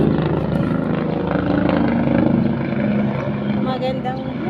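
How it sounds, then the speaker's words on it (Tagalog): A helicopter passes overhead on a hot afternoon, its steady rotor and engine drone filling the scene at close range while a voice talks over it. "Meron na namang dumaan helicopter."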